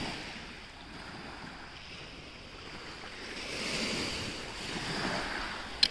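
Steady wash of surf rolling onto a beach, a broad continuous roar swelling slightly toward the end, with some wind buffeting the microphone.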